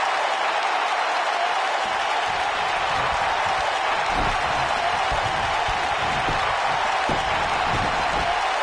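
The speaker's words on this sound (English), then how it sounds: "Wow, Rusev just brought the WWE Universe to its feet." Crowd applause and cheering from a WWE 2K19 wrestling match, a steady wash of clapping and roaring arena noise that stays dense throughout without pause.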